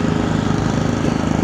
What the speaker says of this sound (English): I'll just wait till we go past this lawnmower